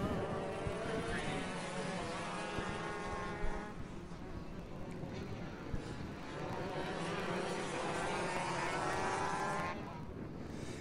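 Shifter and DD2 racing karts roar away at a race start on a sprint circuit, a dense, loud pack of buzzing two-stroke engines revving and shifting continuously for the whole span.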